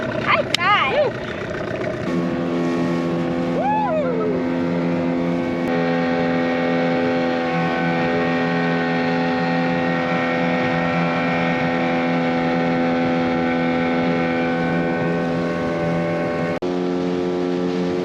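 Dinghy motorboat running steadily across open water, a sustained engine drone with tonal hum held for most of the ride, with brief vocal whoops near the start.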